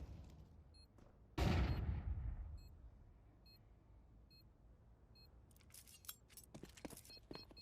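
AK rifle fire in Counter-Strike 2, a single loud burst that fades quickly, followed by faint in-game clicks, beeps and sharp clatter later on.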